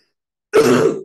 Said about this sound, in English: apologies, slight cough